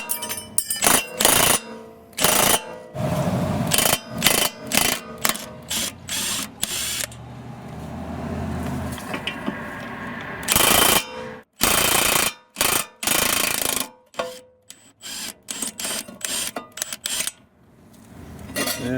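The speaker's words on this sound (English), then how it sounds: "we'll use the gun and 14mm socket. And we have to remove these two bolts." An impact gun fitted with a 14mm socket spins off the rear caliper bracket bolts on a 2002-2006 Acura RSX, firing in loud, sharp, rattling bursts separated by short quiet gaps.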